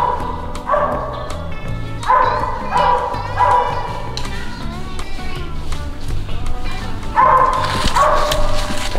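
A hunting dog bays and yips repeatedly at a squirrel up a tree, loud close bursts of barking in uneven clusters with whimpering between.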